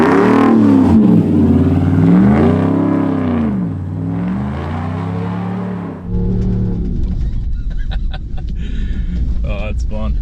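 A 2019 Ram Rebel pickup with axle lock engaged revving hard while fishtailing in snow, loud rising and falling engine surges up close, then a rougher rumble with wind noise.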